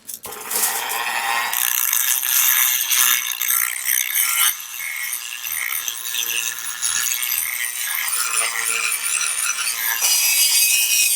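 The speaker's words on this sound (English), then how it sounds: "Using my Dremel, I'm going to lightly sand these down a bit." A Dremel rotary tool lightly sands the front edges of wooden sign letters, giving a loud, close, rasping whir that shifts in pitch and pressure as it moves along the wood.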